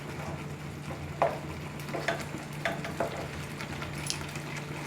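Ripe mango chutney bubbles uncovered over a full gas flame, giving a faint, steady simmer with a few soft pops and occasional light clinks of a utensil against the pan.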